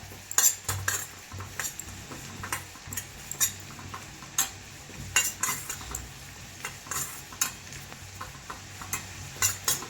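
Cumin seeds fry lightly in a pan for a Tamil-style garlic pickle, giving a steady soft crackle broken by repeated sharp clinks and scrapes of a spoon stirring against the metal, with no talking.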